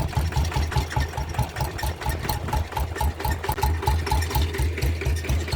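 A walk-behind tractor engine idles at low RPM, chugging steadily with a fast regular knocking pulse and a mechanical rattle throughout, close and loud with no talking.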